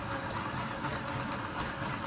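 A small motorised model V12 engine with gearbox hums and whirs steadily at close range, with a continuous buzzing, slightly labored mechanical drone.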